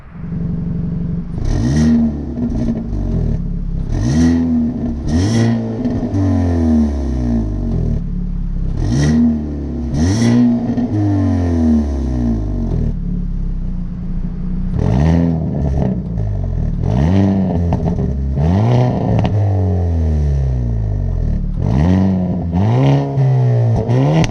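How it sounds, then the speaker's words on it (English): A 2022 Hyundai Elantra N's exhaust revs repeatedly, engine pitch sweeping up and dropping back in loud, close bursts with crackling pops between. "an exhaust system that could absolutely wake anybody out of a graveyard sleep"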